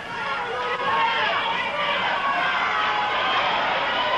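A wrestling arena crowd shouts and chatters loudly to alert the referee, a dense continuous wall of voices and yelling that holds steady throughout without a clear break.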